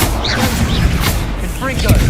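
Incendio fire spell cast in the Hogwarts Legacy video game, a burst of booming, crackling impact noise amid busy combat effects, with a voice calling out over it.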